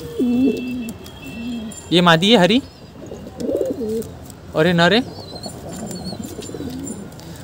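Pigeons newly bought from a market coo close up in deep, throaty rolling bursts, two loud runs separated by softer calls, while someone talks in Hindi.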